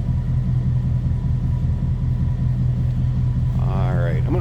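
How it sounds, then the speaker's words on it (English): A 1950 Mercury six-passenger coupe street rod idles through its dual exhaust, a deep, steady, close rumble that continues throughout. "Listen to that dual exhaust."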